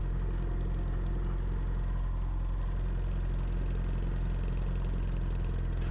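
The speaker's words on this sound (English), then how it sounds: "finally I got my clearance and I'm good to take off" A small airplane engine drones at full power during takeoff in Alaskan winter, a loud, constant, unbroken roar heard from inside the aircraft.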